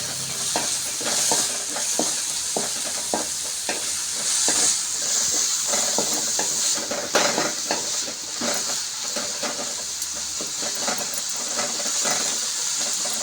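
Carrots and beans sautéing in a pan for mushroom fried rice, a continuous close sizzle broken by repeated scraping and stirring strokes of a utensil against the pan.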